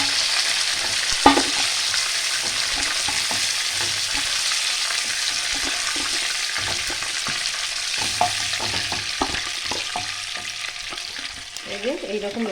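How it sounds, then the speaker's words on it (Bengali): Pieces of Sonkar fish frying in oil in a pan: a steady close sizzle runs throughout, with occasional scrapes and taps of a spatula as the fish is turned, and no talking. "আরও মাছগুলো আমি ভেজে নেব।"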